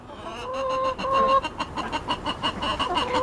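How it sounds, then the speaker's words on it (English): Two turkeys in their homestead coop give a quick run of close, repeated clucking calls that rise and fall over a few seconds. "the turkey coop itself, we only have the 2 turkeys, George and Gina"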